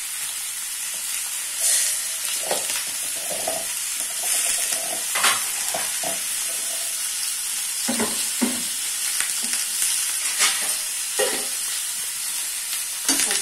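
Chillies, salt, cumin and chana dal fry in hot oil for a capsicum dish, a steady close sizzle broken by occasional stirring scrapes and clinks of a spoon against the pan.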